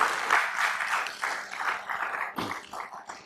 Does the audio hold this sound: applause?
yes